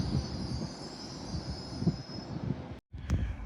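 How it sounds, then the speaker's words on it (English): An LNER Azuma train from Aberdeen to London King's Cross rolls into Carlisle station, a steady low rumble of wheels on rail with a faint high whine overhead, briefly cut off and then resuming. "Your 1417 LNER Azuma service from Aberdeen to London King's Cross."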